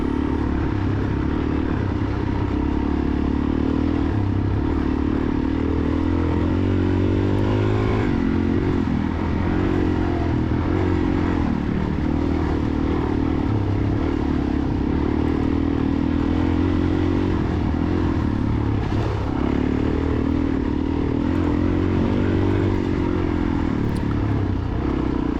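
2003 Suzuki DRZ400E dirt bike racing a muddy cross-country track, its engine droning loud and close throughout, pitch rising and falling as the throttle works, with clattering chassis noise over bumps.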